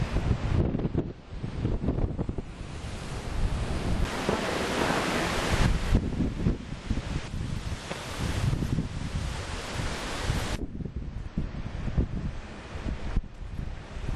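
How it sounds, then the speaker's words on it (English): Surf and strong wind at Sconset Beach on Nantucket on the eve of Hurricane Floyd: a steady, loud roar of breaking waves mixed with gusty wind buffeting the microphone, continuous throughout with no voices. "Getting ready for the hurricane at Sconset Beach."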